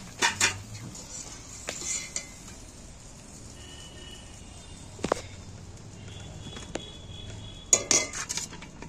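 Boiled okra is lifted out of a pot and drained: scattered metallic clinks and scrapes of a utensil against cookware, with quiet dripping and handling noises between sparse, irregular knocks.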